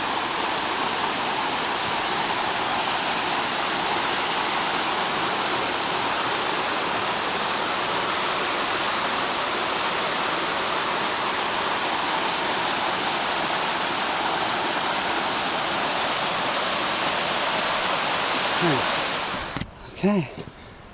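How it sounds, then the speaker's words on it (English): Small cascade waterfall in a creek, a steady close rush of falling water that holds evenly for about twenty seconds before handling noise and a few brief knocks cut in at the end. "I kind of walked past this cool little cascade last time, so we do get to see a little bit of water falling."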